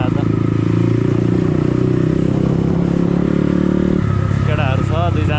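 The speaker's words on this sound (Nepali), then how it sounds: "यो बाइककै साउन्ड सुनेर आनन्दले हिँड्दिने आज" A motorcycle engine droning steadily while riding on a Sunday ride to Chunikhel, loud and close with a constant rumbling tone that shifts as the engine revs, with someone talking over it.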